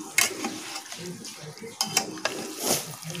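Chicken coated in yogurt masala is sautéed in a pan with a splash of water, faint sizzling under uneven scraping and clinking of a spoon against the pan, quiet and close.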